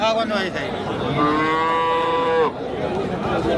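Cattle at the crowded Kundarapalli cow market, where buffalo are also for sale: one clear, drawn-out moo of about a second rises over a steady din of market chatter and background noise.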